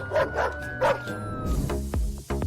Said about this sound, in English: the one on the left will end up face to face with these pretty unfriendly dogs